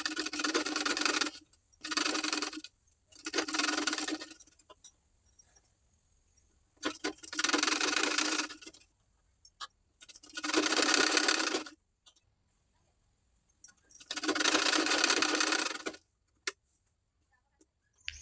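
A domestic sewing machine stitching a katori blouse cup onto fabric, running in six short whirring bursts separated by pauses with faint handling clicks, close and clear with no talking.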